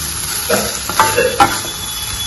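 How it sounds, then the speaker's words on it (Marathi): A bread and potato patty mixture sautés in a pan, with a soft steady sizzle broken by three or four distinct scraping stirs of the spatula, close and fairly loud, with no voices. "असं छान परतून घ्यायचं आपण हे."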